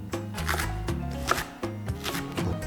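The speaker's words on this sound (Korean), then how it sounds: "마지막에 고추는 좀 얇게 썰어가지고" A kitchen knife thinly slices chili pepper on a cutting board while Korean braised beef short ribs are being prepared. Quick, close, irregular chopping taps come in short bursts, with the pitched sound of a voice talking underneath.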